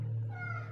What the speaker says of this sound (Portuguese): esse é meu gato miando, porque ele é muito manhoso